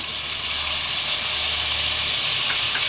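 Ginger, garlic and curry leaf paste made in mustard oil hitting hot oil in a handi for achari chicken, a loud, steady, broadband sizzle that stays even throughout with no talking.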